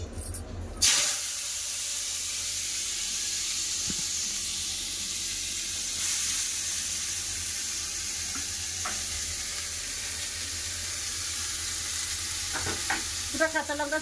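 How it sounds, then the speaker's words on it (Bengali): Snake gourd drops into hot mustard oil in a kadai, setting off a loud, close, steady hiss of frying with faint clinks near the end. "তেল গরম হয়ে গেছে, এবার দিয়ে দেবো চিচিঙ্গা।"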